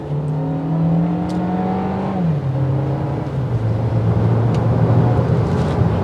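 A 2022 Volkswagen Taos SE with 158 horsepower accelerates from a rolling start, its engine note climbing steadily, dropping at a gear shift, then rising again, loud and close from inside the cabin.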